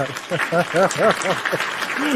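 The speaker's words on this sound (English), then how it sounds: "round of applause" Canned applause effect played during a live wrestling talk show, a short burst of clapping with a voice's rising and falling tones running over it for about two seconds.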